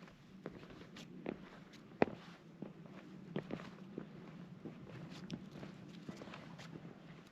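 Footsteps of hikers walking on sandstone slickrock along an exposed desert trail, with soft, irregular scuffs and gritty taps close by in otherwise quiet surroundings.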